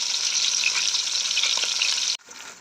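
Fish frying over low heat in a pan gives a bright, even sizzle for about two seconds, then the hiss cuts out sharply and resumes more quietly; no talking.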